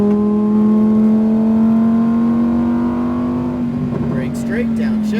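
A Lamborghini Huracan STO engine pulls hard under throttle on a racetrack, a steady rising drone that fades slightly as a voice cuts in near the end.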